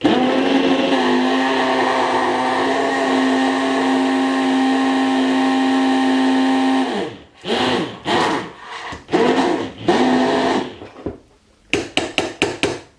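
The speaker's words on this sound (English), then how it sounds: "Give it a stir around, just to make sure it's completely blitzed" A blender blitzing mushroom soup in a pan runs as a loud, steady whirring drone for about seven seconds, then stops and gives way to several short bursts of knocking, scraping and stirring.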